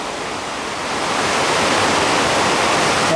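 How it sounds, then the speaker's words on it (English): A large, loud waterfall outside Grecia, Costa Rica, roars as a dense, unbroken rush of falling water, close and powerful, swelling slightly after the first second and holding steady with no voices. "This is the waterfall outside of Grecia,"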